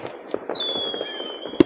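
Practice fireworks crackle and pop over a snowy Norwegian city at New Year, a run of scattered bangs at moderate distance with one sharper burst near the end, over a thin high whistle.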